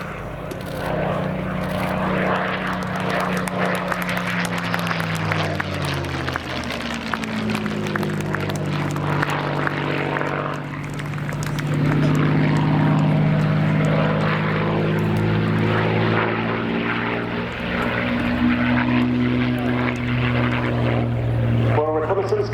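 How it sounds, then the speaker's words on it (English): A Supermarine Spitfire PR11 makes a final pass at the RAF Cosford airshow, its piston engine droning loud and steady, rising and falling in pitch as it sweeps by, with an announcer talking over it. "Final pass then, from the Hangar 11 collection Spitfire PR11."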